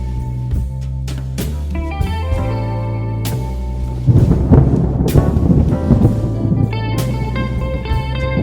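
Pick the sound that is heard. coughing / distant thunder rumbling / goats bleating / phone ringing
distant thunder rumbling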